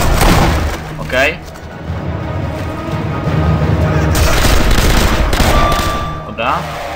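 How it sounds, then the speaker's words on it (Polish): Rapid bursts of gunfire in Sniper Elite V2 crackle loudly and continuously, with a couple of sharp higher-pitched cries or ricochets cutting through. "Fajna seria taka strzałów."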